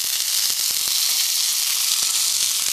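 Emu and kangaroo sausages fry on a small outdoor survival stove, making a steady, loud, close sizzle with frequent crackling pops throughout.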